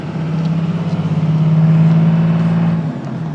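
A 2001 Dodge Cummins diesel truck with a 6-speed transmission accelerates, its engine droning loud and steady with a rising, pulsing hum that swells and then eases off.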